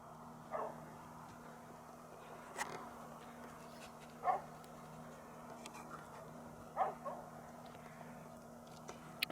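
Several separate barks from farm guard dogs protecting sheep, spaced a few seconds apart, moderately distant, over a quiet background with a low steady hum.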